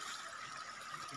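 A small stream trickles through the Anamalai forest, a soft, steady flow of running water that stays constant and fairly faint from start to finish, with no voices.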